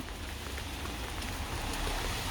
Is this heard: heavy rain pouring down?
yes